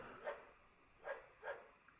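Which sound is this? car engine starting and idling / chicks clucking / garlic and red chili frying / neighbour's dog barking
neighbour's dog barking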